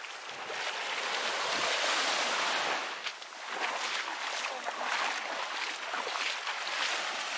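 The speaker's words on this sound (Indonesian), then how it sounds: "Mana lihat tuh ombak tak gulung situ?" Ocean waves rolling onto the shore of Pulau Nanas, a steady loud wash of surf with gusts of wind buffeting the microphone, swelling and easing briefly midway.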